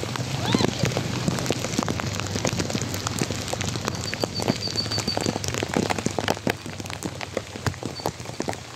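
Steady heavy typhoon rain pattering on a car, dense and continuous, with a low rumble underneath.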